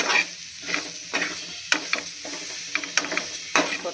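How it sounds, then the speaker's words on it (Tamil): Cluster beans tossed into a masala in a hot pan, stirred and sautéed with steady sizzling and repeated scraping, clattering strokes of a spoon against the metal, close and fairly loud, with no talking. "இப்போ இந்த கொத்தவரங்காயை எடுத்து வச்சுக்கிறத போட்டுக்கலாம். அதையும் ஒரு வதக்கிக்கலாம்."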